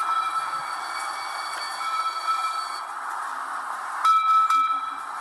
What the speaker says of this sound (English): A little train action.